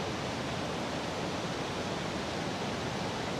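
Falling water pours as a dense, even, loud rushing roar at a waterfall by a hanging bridge, steady throughout with no voices.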